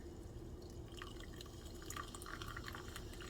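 Sparkling water poured into a glass of sweetened chokecherry juice with lime, a steady close fizzing and trickling pour with faint dripping, no talk.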